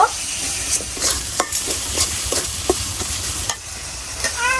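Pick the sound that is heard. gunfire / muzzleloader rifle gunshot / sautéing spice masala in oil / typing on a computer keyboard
sautéing spice masala in oil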